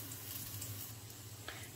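Elderflower pancakes in fluffy omelette batter fry over low heat in a pan, giving a faint, steady, soft sizzle throughout with no voices.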